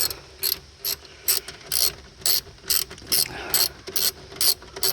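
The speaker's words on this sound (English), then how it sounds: "So now I'm going to take my 7mm socket and my ratchet" A hand ratchet fitted with a 7mm socket turns screws on a Pontiac Torrent ignition lock cylinder, giving about ten evenly spaced bursts of crisp clicking, close and fairly loud, with no talking.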